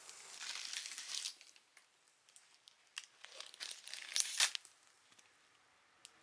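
Crinkly plastic packaging around a boxed 155cm Fanreal doll being cut and torn open during an unboxing, with close crackling and tearing bursts and one sharp louder rip near the end.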